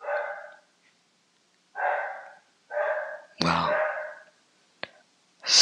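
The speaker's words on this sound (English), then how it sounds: "What is that barking?" A dog barks in separate short bursts with quiet gaps between them. The barks sound fairly distant and muffled, and a sharp click and a brief snort-like noise break in near the end.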